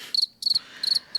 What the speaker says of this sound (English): I was waiting for crickets